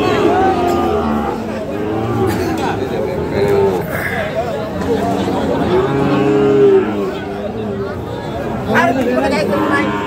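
Sahiwal breed calves mooing at a busy cattle market, several loud close moos rising over a steady crowd babble with people talking nearby.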